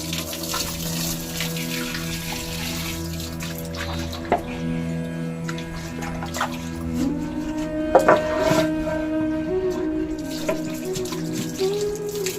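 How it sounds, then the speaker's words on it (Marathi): Running tap water splashing steadily with occasional knocks and clatters of a wooden bowl being handled and rinsed under the stream. "आता आपण ह्याला मस्त नळाखाली स्वच्छ धुवून घेऊया"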